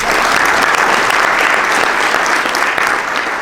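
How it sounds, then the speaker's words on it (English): A crowd at a Muslim Heritage Month celebration and food distribution in Paterson applauds, with loud, dense, sustained clapping throughout. "You can applaud for that."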